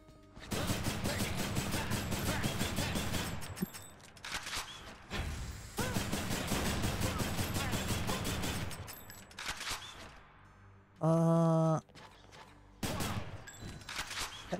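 Bursts of video game gunfire, rapid automatic volleys in long loud runs with short gaps, plus a brief tonal in-game sound near the end.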